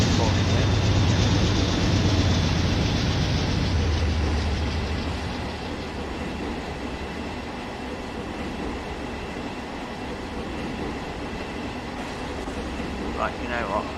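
A train running in a Minecraft mod, a steady mechanical rumble with a low hum that eases off midway and carries on at a lower level, with faint clicks near the end.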